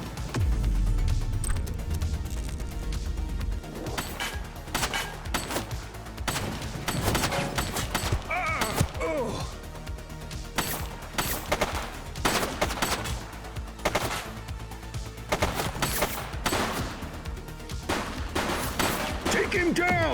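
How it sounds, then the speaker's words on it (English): Gunfire in The Precinct police video game, repeated sharp shots and rapid bursts crackling throughout, loud and close, with shouted voices and other game sounds mixed in. "He's shooting!"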